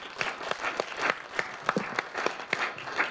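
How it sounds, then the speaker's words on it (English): Sparse, uneven clapping from a small audience, distinct individual claps in an irregular rhythm with no voices over them. "Let's give a round of applause."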